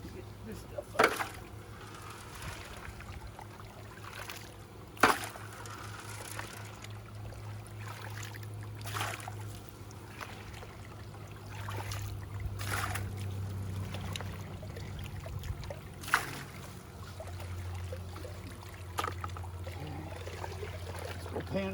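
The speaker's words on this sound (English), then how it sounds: "We'll pan all this out." Gold-bearing material being panned in water, soft swishing and trickling with occasional sharp knocks of the pan, faint and continuous, with someone speaking intermittently.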